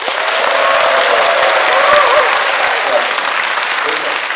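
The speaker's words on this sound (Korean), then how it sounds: "큰 박수로 우리 교수님을 힘차게 모시겠습니다" Sustained applause from a lecture audience welcoming a professor to the stage for a talk on Korean culture, dense and steady throughout at close range, with some crowd noise mixed in.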